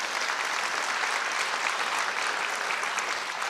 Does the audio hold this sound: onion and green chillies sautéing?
no